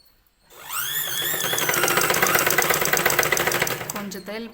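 A sewing machine stitches the sleeve join of a blouse, starting after a brief pause and then running in a fast, steady whirring rattle up close, with someone talking over it.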